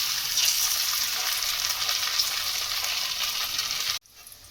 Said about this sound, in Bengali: এবার আমার তেল গরম হয়ে গেছে, তেলে ছাড়বো। এইভাবে একটা একটা করে তেলে ছেড়ে দেবো।